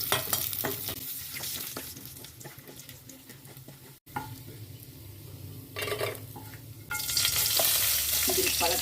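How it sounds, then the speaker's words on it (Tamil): Cashew nuts frying in ghee for an Indian-style rice halwa, a steady close sizzle with stirring scrapes through most of the stretch, briefly cut near the midpoint and growing louder and hissier toward the end. "முந்திரி பருப்பை பொரிச்சு எடுத்துக்குவோம்."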